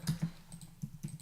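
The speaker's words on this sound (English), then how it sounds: "what was actually required to build my keyboard, my custom German handmade keyboard" Keystrokes on a custom German handmade computer keyboard, a handful of soft, close clicks in an uneven rhythm at low level with no talk.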